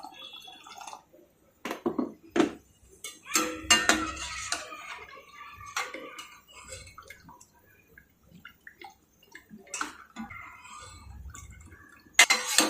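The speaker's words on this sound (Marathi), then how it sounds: "पाणी गरम ओतायचं." Hot water is poured into a pot of peanut curry for a Mahashivratri fasting meal, bringing a watery rush and splashing in bursts, broken by sharp clinks and knocks of metal vessels, with quiet gaps and no voices.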